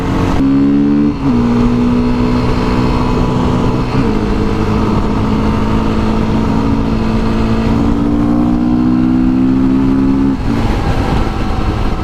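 A loud Beta motorcycle engine drones steadily, its pitch climbing and dropping as it shifts up through gears, with much of the sound coming from the intake rather than the exhaust; close and continuous with no talking.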